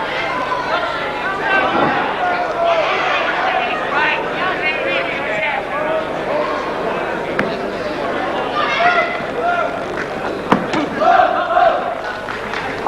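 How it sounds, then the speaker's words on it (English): A boxing crowd chants for Alan Minter at his fight against Pat Brogan, a loud rhythmic roar of many voices rising and falling in an arena, with chatter mixed in. "This crowd setting up the boom boom chant."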